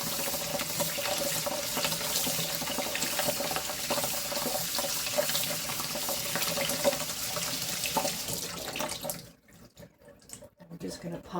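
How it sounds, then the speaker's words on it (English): Tap water runs steadily into a sink while tomatoes are rinsed and seeded for canned salsa, a continuous broadband splashing that dominates most of the clip before cutting off near the end into a quieter, intermittent trickle. "Just give it a really good rinse."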